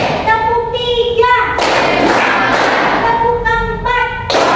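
A class of children in a classroom chants counts aloud, and bursts of loud group hand-clapping come between the chanted numbers.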